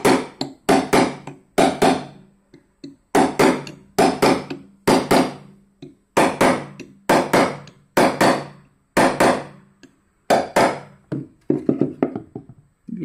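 A hammer drives a chasing punch into metal for a knife fitting, sharp close metallic taps in quick clusters of two or three with short gaps, loud and alone.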